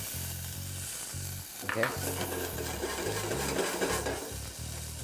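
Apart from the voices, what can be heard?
shallots sautéing in hot canola oil in a pan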